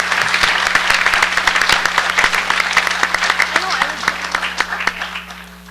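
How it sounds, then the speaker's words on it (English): A large audience at the 2017 Minnesota State FFA Convention general session claps loudly and steadily, a dense wash of hands that thins and fades toward the end. "let's give them a round of applause"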